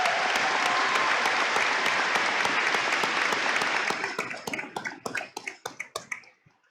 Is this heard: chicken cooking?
no